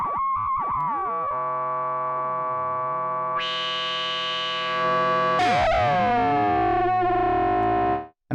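Korg ARP 2600 synthesizer producing continuous audio-rate modulated tones, loud and alone, with harmonic buzzing that jumps in brightness midway and sweeping, chirping partials near the end before cutting off.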